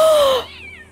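A loud, close cat meow with a falling pitch from the video game Fran Bow, lasting under half a second and trailing into a softer fading tone.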